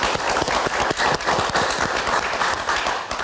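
An audience at a live talk show event applauds, dense continuous clapping from a crowd, loud and near, holding steady for the whole stretch without voices.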